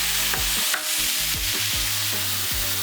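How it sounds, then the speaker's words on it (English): Tomatoes go into a hot pot for a chickpea and shrimp dish and are stirred through, giving a steady close sizzle broken by several scraping stirring strokes. "I'll add some tomatoes"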